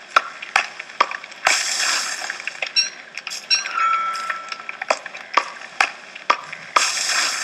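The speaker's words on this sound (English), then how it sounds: "Chopping down trees in the dark." Trees are chopped in the dark in the game Don't Starve, with a series of sharp, irregular axe chops and a few clattering game sound effects in between.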